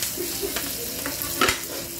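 Garlic toasting in hot oil in a pan for pork adobo, a steady soft sizzle with a few scrapes of a ladle and one brief louder clatter, heard close with no talking.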